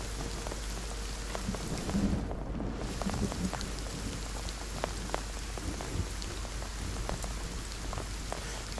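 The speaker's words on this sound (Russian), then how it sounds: "Дождь такой идет, прям звук." Steady rain patters down in the game Will To Live Online, a constant hiss with scattered drop taps, quiet and even, with a faint low rumble underneath.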